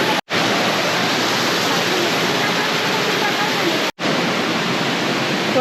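Waterfall in Yala National Park, a loud, steady broadband rush of falling water, close and continuous, briefly cut off twice by short gaps.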